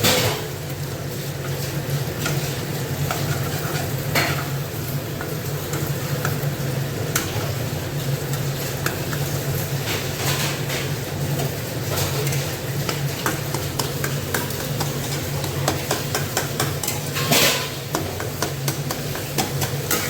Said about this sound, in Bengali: এখানে আলু ভাজাটা অলরেডি হয়ে গেছে, নরম হয়ে গেছে, তার মধ্যে আমি ডিমটা দিয়ে ভালো করে নাড়াচাড়া করে নেবো